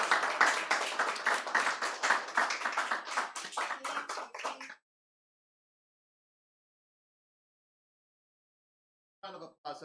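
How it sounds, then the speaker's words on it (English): After a poetry reading at an evening of international and translated poetry, a small audience claps in a brisk, fairly close burst that stops abruptly, followed by a long silence and then a brief renewed patter of clapping. "Round of applause."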